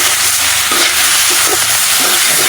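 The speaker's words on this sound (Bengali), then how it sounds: "পুঁই শাক ভাজি হচ্ছে, হয়ে গেছে আমার শাক ভাজি।" Malabar spinach (pui shak) fries in a pan, giving off a loud, continuous hissing sizzle with faint bubbling beneath it.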